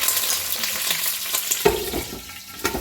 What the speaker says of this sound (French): Je vais faire revenir mes morceaux de veau